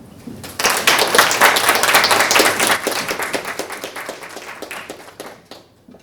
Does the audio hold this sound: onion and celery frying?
no